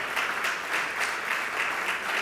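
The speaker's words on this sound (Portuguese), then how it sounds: "Pode aplaudir o Senhor, porque vai terminar bem." A church congregation applauding during a sermon, a brief steady round of clapping from many hands at moderate distance, with no talking over it.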